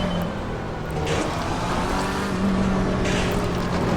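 Race car engine in Assetto Corsa Competizione at Zandvoort, a loud, steady drone through the last turns with tyre noise and shifts in pitch as the car eases along, no voices.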